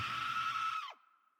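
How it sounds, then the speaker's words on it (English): A single sharp, high-pitched scream used as a sound effect, loud and sustained for almost a second before it breaks off abruptly with a short falling tail. "And then finally you hear Sarah's scream."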